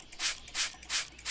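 Four even back-and-forth strokes of a cloth being sprayed and rubbed over dirty speakers in the video game Junkyard Simulator, a close, broadband scrubbing rhythm with no speech.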